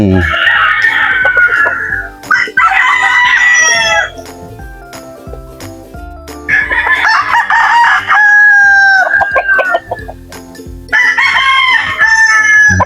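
White broiler chickens and native chickens cluck and a rooster crows loudly nearby, with repeated bursts of calls over a busy farmyard background.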